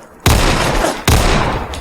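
Two loud, sharp shots from an IMI .50AE Desert Eagle pistol in Fallout 4, each a booming crack with a decaying tail, spaced about a second apart and heard alone with no talk.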